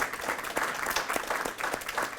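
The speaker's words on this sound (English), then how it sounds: "Let's give her a round of applause." An elementary school crowd at a wellness center ribbon cutting claps for a school nurse, a steady round of applause from many people, moderately loud and continuous without any talk.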